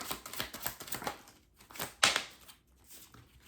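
Tarot cards are drawn and handled close by, a quiet run of crisp taps and flicks with one sharper snap partway through.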